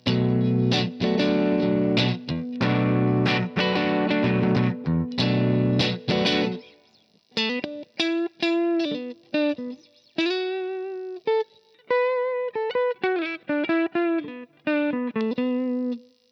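An Ibanez AZ242F electric guitar is played while its pickup coil-tap switch is flipped: dense, driven strummed chords at first, then cleaner, spaced single notes and short phrases ringing out loud and close.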